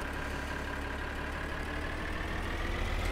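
A tractor engine idles steadily in Farming Simulator 2013, a constant low, droning rumble running unchanged throughout with no talking over it.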